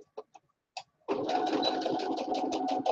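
A sewing machine runs steadily while stitching a fabric apron, starting after a few light clicks and handling taps, then buzzing continuously and close with small speed dips.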